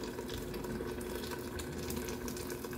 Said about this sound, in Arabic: دروك غادي نجيب الماء طايب يعني ماشي الماء بارد